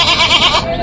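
Goats at a village livestock market give a loud, close, wavering bleat lasting under a second, with no talk over it.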